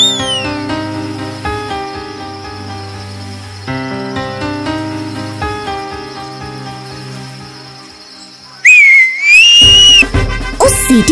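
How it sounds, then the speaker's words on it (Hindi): A whistle is blown in a children's cartoon story about a mouse king and a caged lion king, giving a loud rising shrill tone near the end after a stretch of music. "उस सीटी की आवाज सुनकर चूहों की एक फौज भागती हुई आ गई"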